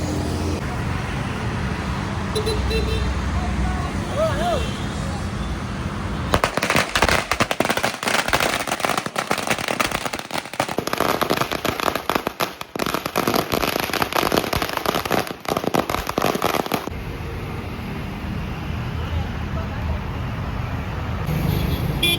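Dense crackle of firecrackers bursting near a street during a new Hyundai Creta delivery, a loud volley of sharp pops running for about ten seconds before easing back to traffic hum.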